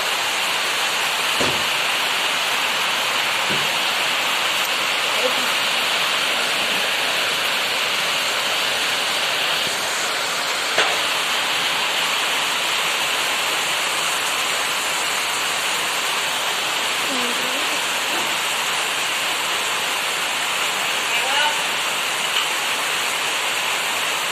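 Steady, dense hiss of heavy rain pouring continuously, with a few faint knocks and distant sounds underneath.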